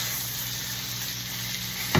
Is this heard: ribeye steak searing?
yes